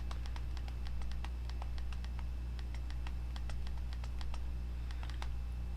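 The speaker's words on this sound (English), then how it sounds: "you have to wait for the button to come back up before you can press it down again to type the next letter" Rapid, irregular clicks from typing on a BlackBerry Storm's clicking touchscreen keyboard, each press a sharp, close tick in steady bursts over a constant low hum.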